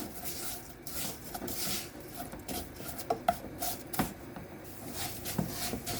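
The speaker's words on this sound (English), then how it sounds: "Shake it time to time to avoid burning, because vermicelli get easily burned." Dry vermicelli roasting in a pan is shaken now and then, giving quiet, irregular rustling and scraping bursts with a few sharper clicks.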